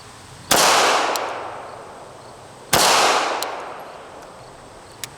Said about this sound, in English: I'll fire one shot double action and one shot single action